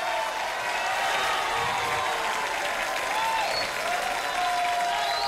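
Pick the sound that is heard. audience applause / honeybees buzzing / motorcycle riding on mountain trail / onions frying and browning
audience applause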